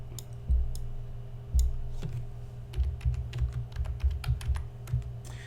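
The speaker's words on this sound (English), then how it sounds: "Now you're going to type in IP link." A Linux command being typed on a computer keyboard during an Arch Linux install, with sharp, close keystrokes arriving in uneven bursts and single taps, then a quicker run of clicks, and no talking.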